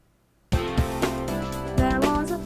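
After half a second of silence, a computer-synthesized singing voice performs a song segment over a steady musical backing, loud and continuous to the end.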